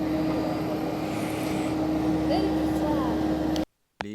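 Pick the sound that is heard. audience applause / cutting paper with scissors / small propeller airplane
small propeller airplane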